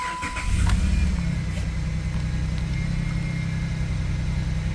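A Jeep engine cranks briefly, catches, and settles into a steady idle close by, humming evenly with no talking.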